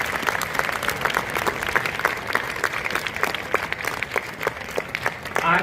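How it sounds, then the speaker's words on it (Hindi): An audience at a National Voters Day event gives steady, enthusiastic applause for teacher performers, crisp individual claps clearly audible within the continuous clapping throughout. "आज के हमारे शिक्षक कलाकारों के लिए जोरदार ताली से किया जाए"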